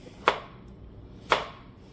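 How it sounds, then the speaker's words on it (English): A knife mincing food on a cutting board gives two crisp, separate chops about a second apart, close and clear with nothing else over them. "When you want to mince, just cut little slices like this"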